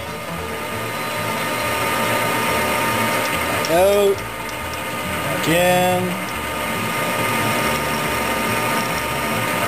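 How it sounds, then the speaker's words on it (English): A cobalt steel bit drills into a banjo bolt, a steady grinding and whirring that runs throughout at close range, with brief spoken remarks over it. "I'm gonna drill right up to the holes."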